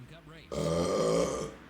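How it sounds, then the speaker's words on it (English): A single loud, drawn-out burp, deep and rumbling, lasts about a second after a brief quieter lead-in, close and alone without talk. "that was a good burp."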